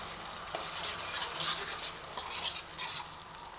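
Ginger, garlic and onion paste frying in a pan on the stove for an achari paneer, with a steady close sizzle and the repeated scrape of a spatula stirring it throughout.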